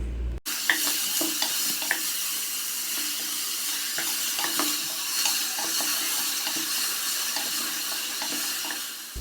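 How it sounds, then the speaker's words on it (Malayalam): Onions with salt sautéing in a pan, a steady close sizzle and hiss with faint scraping stir sounds scattered through, continuous and alone. "ഉപ്പ് ചേർത്തിട്ട് സവാള വഴറ്റിയെടുക്കുക"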